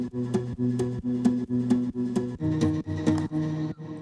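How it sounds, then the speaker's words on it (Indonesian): An acoustic guitar sample in a beatmaking session plays a quick, evenly repeated plucked pattern of bright chords, clean and upfront with no talking. "Untuk gitar bunyinya kayak gini."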